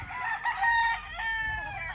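A rooster crows twice in quick succession, clear and fairly close, with faint background noise and no talking.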